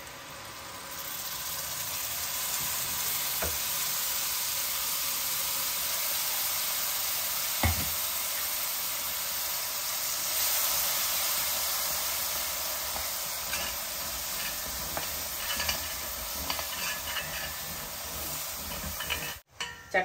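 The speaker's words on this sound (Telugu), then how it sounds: "చక్కగా వేగుతుంది కదా మన టమాటా ప్యూరీ" Tomato puree frying in oil in a pan for a mixed vegetable curry, a steady close hiss and sizzle running throughout, with a few faint clinks and one brief knock partway through.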